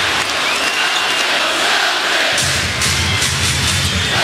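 A basketball arena crowd at a 2013 Celtics vs Knicks playoff game roars and cheers loudly and continuously, with steady applause throughout.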